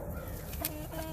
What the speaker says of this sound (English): There's old rooster making his noise, his little throaty noise